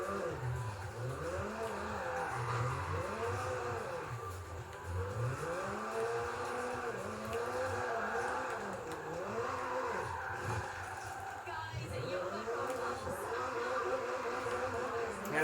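Engine of a car driven in a racing video game plays on 4K gameplay, rising and falling in repeated revving sweeps as the car accelerates and shifts, steady and continuous throughout with no talking.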